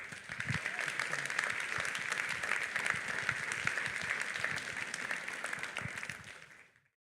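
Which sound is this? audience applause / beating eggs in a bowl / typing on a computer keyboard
audience applause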